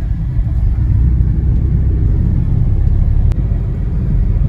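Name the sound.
road traffic in Nagpur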